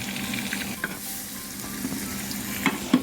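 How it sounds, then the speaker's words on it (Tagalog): Butter melting with olive oil in a pan over medium heat, giving a steady, close sizzle and fry with light stirring throughout, with no talking. "Lagyan natin ng olive oil para hindi masyado masunog ang butter."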